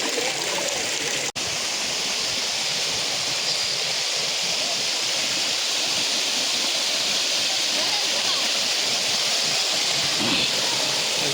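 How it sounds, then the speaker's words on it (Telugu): Tatiguda waterfall roaring steadily at close range, a dense unbroken rush of falling water with a brief dropout near the start, no voices over it. "ఇక్కడి నుంచి యాంగిల్ చూడండి ఎలా ఉంది మన తాటిగూడ వాటర్ ఫాల్స్"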